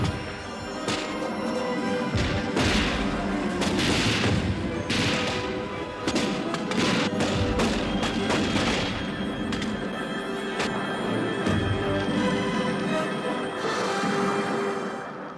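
Cannon fire from sailing ships in a naval battle, repeated heavy booms and crashes over a continuous loud rumbling backdrop, dense and sustained throughout.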